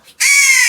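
A crow chick gives a single loud, harsh caw close by after a brief quiet moment.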